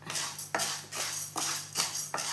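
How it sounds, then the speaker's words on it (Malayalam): Urad dal being dry-roasted in a metal pan for a besan burfi, with a utensil scraping and clinking against the pan in several distinct strokes, close and fairly quiet. "ഉഴുന്ന് വറുക്കുന്നുണ്ട്"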